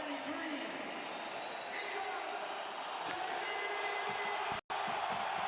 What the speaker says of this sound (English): This crowd is bonkers.